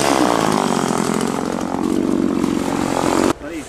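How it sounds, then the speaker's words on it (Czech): Motor saw (chainsaw) running steadily and loud at close range for most of the clip, its engine drone holding until it cuts off abruptly near the end. "Na člověka s motorovou pilou."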